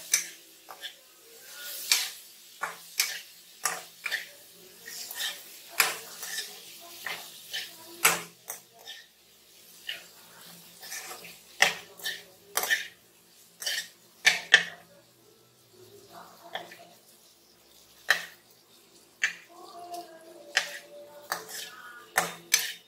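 Boiled potatoes mixed in a pan for Bombay aloo, with a spoon tapping and scraping the metal in a series of irregular clicks and clatters, some louder than others, over a quiet background.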